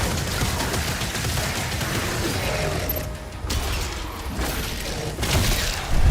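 Rapid, dense weapon fire from a Cycler gun in DOOM: The Dark Ages rattles continuously with metallic mechanical clatter, loud and close, briefly dipping before resuming.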